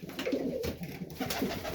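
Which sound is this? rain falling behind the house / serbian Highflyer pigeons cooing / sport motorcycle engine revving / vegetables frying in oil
serbian Highflyer pigeons cooing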